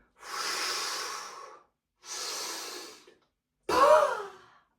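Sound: bodyflex breathing exhale

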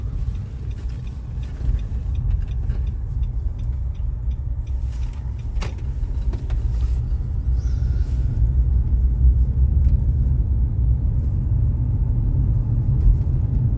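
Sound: car engine and road noise while riding

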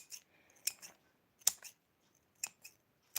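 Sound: scissors trimming elderflower blossoms

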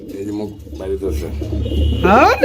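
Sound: king pigeon cooing

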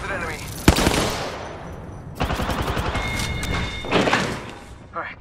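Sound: gunfire in the video game Apex Legends

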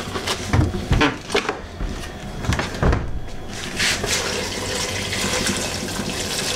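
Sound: pouring vegetable stock into a pan

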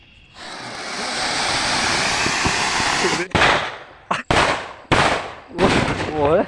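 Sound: big firecracker exploding

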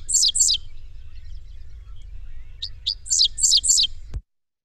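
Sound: dickcissel song

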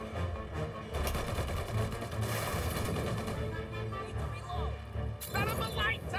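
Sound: gunshots shooting out car windshield, Mafia: Definitive Edition video game

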